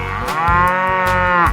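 A cow in a 3D animal slide video game gives one loud, close, sustained moo lasting over a second, with no talking.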